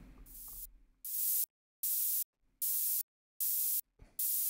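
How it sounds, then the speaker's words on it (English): A synthesized hi-hat built in Max/MSP with a thin, weak high-passed tone, five evenly spaced bursts of bright hissing noise, each about a third of a second long, separated by silence. "So it's a fairly weak hi-hat that we've got now because of that."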